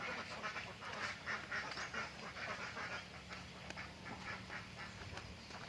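A flock of ducks quacks continuously, many overlapping calls forming a dense, steady chatter at a moderate distance.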